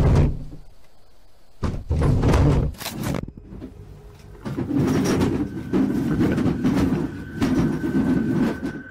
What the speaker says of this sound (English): It sounds like all the dishes inside are jumping around.